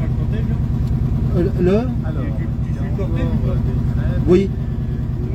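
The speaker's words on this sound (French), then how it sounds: "nous sommes dans une Vespa 400 avec son propriétaire au volant" Vespa 400 microcar engine drones steadily from inside the moving car, a continuous close buzzing hum with a brief voice heard over it.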